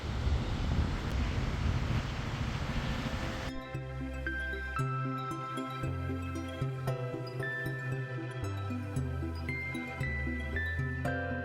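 Strong wind rumbles against the microphone with a low roar of surf for a few seconds, then gives way to music.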